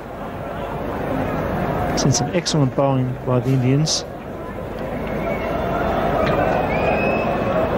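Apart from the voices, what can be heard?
noisy cricket stadium crowd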